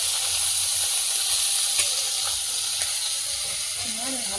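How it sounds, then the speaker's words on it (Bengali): Small bele and tora fish and prawns fry in hot oil in a pan, giving a steady, close bright sizzle and hiss with faint crackles and no break. "দারুণ ভাজা হচ্ছে।"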